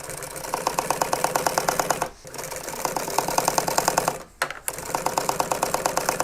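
A sewing machine stitches motorcycle seat upholstery in steady, rapid runs of needle clatter over a motor whir. The stitching stops briefly twice and then resumes, close and loud, with no voices.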